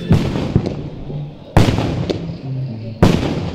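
Three loud, sharp carbide cannon bangs on New Year's Eve day, spaced about a second and a half apart, each a booming blast with a ringing tail and clattering echo.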